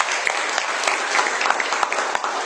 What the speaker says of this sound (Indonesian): Sekali lagi berikan sorak-sorai.